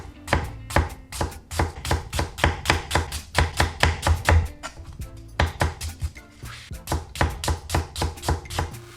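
A very sharp chef's knife chops food on a cutting board in a steady rapid series of crisp thuds, close and loud, with a short pause midway and no one talking.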